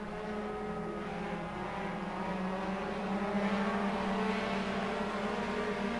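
Four-cylinder front-wheel-drive race cars at Pittsburgh's PPMS speedway, engines droning together in a steady, mid-distance whine that swells slightly midway, continuous with no voice over it.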